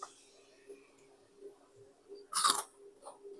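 A piece of crispy fried otak-otak fish cake gives one sharp, loud crunch when bitten, then quiet, soft chewing ticks follow close to the mic against near silence.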